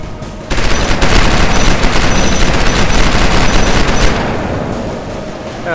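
Rapid bursts of gunfire from the guns in the StarForge video game, a loud dense barrage that starts abruptly and runs continuously for several seconds before easing into a quieter rumble, with faint talk underneath.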